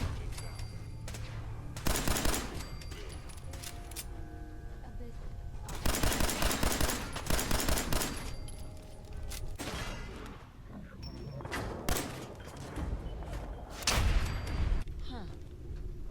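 Rapid gunfire in a tense firefight in the video game Fallout 4, with machine-gun bursts and shots crackling through dense battle noise, loud and continuous, with heavier volleys at intervals.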